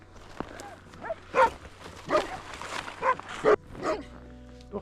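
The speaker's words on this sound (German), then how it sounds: "Hunde bellen uns auch an." Large dogs bark at trekkers on a hiking route in Patagonia, about five separate barks spaced roughly a second apart, fairly near and loud over quiet outdoor background.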